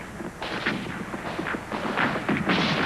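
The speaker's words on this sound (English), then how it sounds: "any ships that were able were returning fire and attempting to get underway" Ships' guns at Pearl Harbor return fire in a dense, continuous barrage of overlapping booms and thuds, loud and unbroken throughout.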